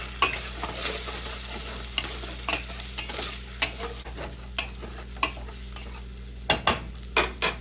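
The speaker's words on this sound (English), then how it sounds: "Some parsley, and mix it." Spaghetti tossed with chopped parsley in a pan, a quiet run of utensil scrapes and clicks repeating every second or so, with a faint sizzle underneath.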